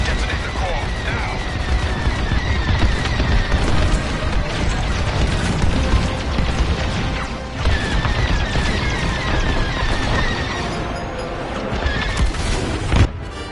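A core detonation in Star Wars: Squadrons brings a sustained roar of blasts, crashes and mechanical rumble that stays loud and dense throughout, with clustered impacts near the middle and end, while voices speak beneath the din.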